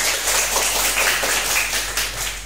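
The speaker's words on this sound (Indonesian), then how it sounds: "Oke, tepuk tangan." A group of students clapping together in a classroom during a coding and artificial intelligence lesson, a dense, steady wash of many hands held for a couple of seconds with no talking.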